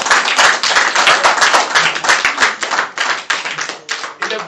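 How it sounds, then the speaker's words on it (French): A church congregation claps together in quick, loud, rhythmic bursts that carry on steadily throughout, close and dense, with a faint voice underneath. "Applaudissez pour le Seigneur."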